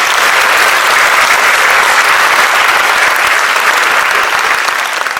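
A theatre crowd bursts into thunderous applause for an elderly woman performing on stage, loud, dense and continuous from start to finish, with no voices over it.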